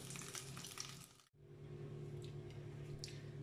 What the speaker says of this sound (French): Dans une poêle bien chaude avec de l'huile d'olive et un peu de beurre, faites revenir vos carrés de polenta.